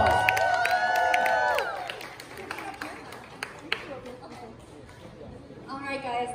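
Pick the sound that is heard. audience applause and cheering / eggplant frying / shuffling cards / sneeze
audience applause and cheering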